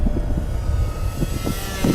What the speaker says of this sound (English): Yeah, I gotta balance that prop. Yeah, it's real noisy.